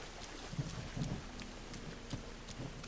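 Rain falling in The Legend of Zelda: Breath of the Wild, a steady, soft hiss of drops with faint low rumbles, continuous and fairly quiet with no talk.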